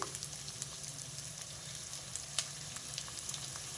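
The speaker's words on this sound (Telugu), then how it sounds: "ఈ ఉల్లిపాయ కొంచెం మగ్గాలి అంతే, వేగాల్సిన అవసరం లేదు" Onions with a little salt softening gently in a pan for a potato curry, a soft steady sizzle with faint crackles throughout, quiet and unbroken.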